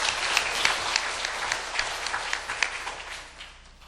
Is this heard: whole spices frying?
no